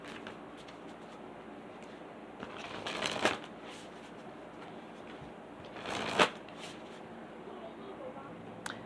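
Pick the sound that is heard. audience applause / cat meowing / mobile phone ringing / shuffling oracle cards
shuffling oracle cards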